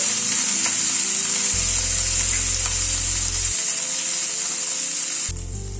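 Potatoes and beans fry in a pan with a loud, continuous sizzle while being stirred, and a low hum runs underneath for a few seconds.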